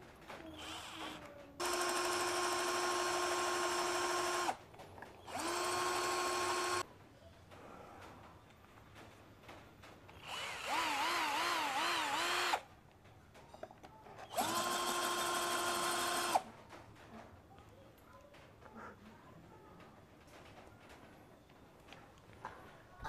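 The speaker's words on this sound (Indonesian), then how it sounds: "Sekarang kita akan coba kekuatannya untuk mengebor ini ya." A JLD 12 volt red cordless drill bores into concrete paving in several sustained bursts, a loud steady whine with a grinding undertone, the motor briefly revving and wavering between runs, with quiet pauses in between.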